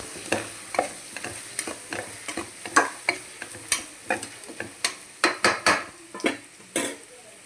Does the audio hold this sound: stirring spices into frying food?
yes